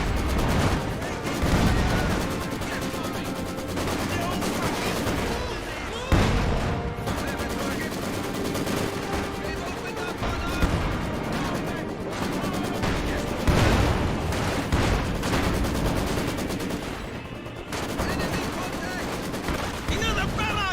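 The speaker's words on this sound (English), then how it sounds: "Another barrage! They have zeroed us in!" Video game battle with an artillery barrage and gunfire, dense continuous rattling shots and heavy booms, loud and close, with game voices shouting over the combat.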